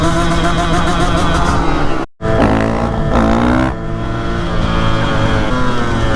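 A KTM 150 dirt bike on a West Virginia trail ride revs loudly up close, the engine note sweeping up and down in sharp bursts, with a momentary dropout partway through.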